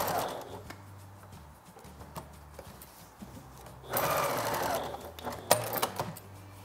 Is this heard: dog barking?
no